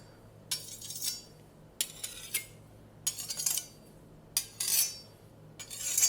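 Two kitchen knives clink and scrape against each other in short, bright bursts separated by quiet pauses, close and crisp, with no talking.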